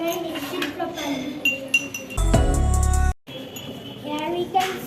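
Water and cooking oil are stirred together in a glass, giving a few light clinks against the rim. Someone talks throughout, and there is a short burst of loud noise partway through.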